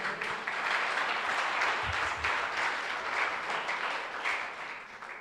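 A church congregation applauding strongly in a steady, dense roar of clapping that holds for several seconds before easing off slightly, with a brief low voice or shout in the middle.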